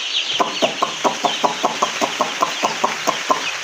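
Chicks and hens in a brooding setup, giving a steady run of about fifteen evenly spaced, close, moderately loud clucks and chirps over a constant background hiss.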